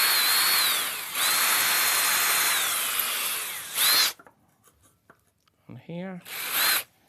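A power drill drives screws into wood on a marble machine prototype: a long, loud whirring run of about four seconds with a brief pause and a final burst, followed by quiet handling, a few spoken words and one more short drill burst.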